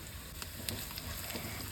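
Mustard seeds crackle in hot oil for tempering, for a chutney served with idli: a steady close sizzle with small scattered pops, alone and fairly quiet.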